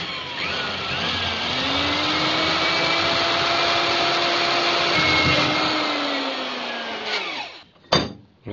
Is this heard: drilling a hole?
yes